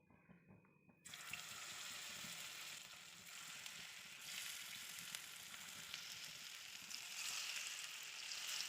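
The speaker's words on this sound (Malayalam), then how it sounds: "ഇനി നമുക്ക് കോളിഫ്ലവർ ഫ്രൈ ചെയ്തെടുക്കാം" Cauliflower pieces dropped into hot oil, a short quiet lead-in giving way to a sudden, steady bubbling sizzle that stays fairly faint and even throughout, no voices.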